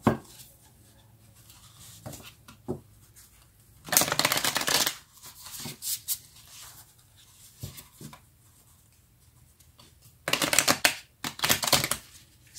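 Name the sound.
shuffling tarot cards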